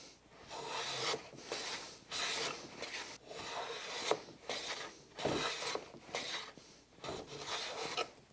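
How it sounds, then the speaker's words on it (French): A hand plane shaves a wooden board while making a hand-tool box, giving repeated rasping strokes of roughly a second each with short pauses between, close and fairly loud, no talking. "le rabot, il commence ici quasiment à l'extérieur de la planche"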